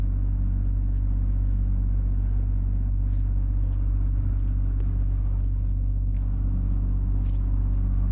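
A giant drill runs off a truck-mounted air compressor, giving a steady, loud, low mechanical rumble and drone that holds throughout with faint higher clatter on top, continuous and unbroken.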